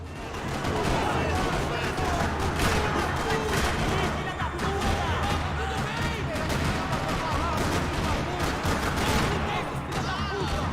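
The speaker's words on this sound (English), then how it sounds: "Another parking lot rattling with gunfire." Video game gunfire in a parking lot, dense rattling bursts of automatic fire and shots that crackle continuously at high volume, with speech mixed in.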